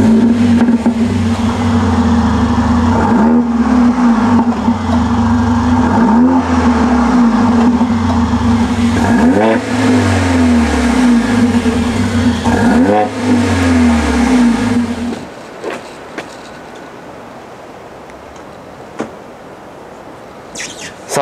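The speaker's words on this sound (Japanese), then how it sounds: "エンジンかけます" A Mercedes-Benz GLA45 AMG engine runs loud and close with a steady drone and repeated rising revs for about fifteen seconds, then drops to a quiet idle hum.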